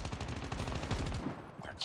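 An M16 assault rifle fires in Call of Duty Mobile as a fast, continuous automatic burst. The shots sound close and dense, and a voice is faintly present near the end.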